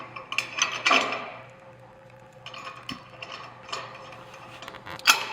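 Nuts and bolts are threaded by hand onto a pontoon boat's vinyl guide clip, producing scattered close metallic clicks, rattles and small ratcheting taps with quiet pauses between, and no voices.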